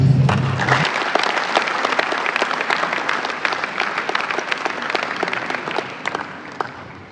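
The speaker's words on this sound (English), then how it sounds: "I want you to clap for your vice chancellor." University lecture audience at ESUT gives sustained applause for the vice chancellor, a dense crowd of clapping hands filling the hall steadily for several seconds, loud and continuous with no speech over it.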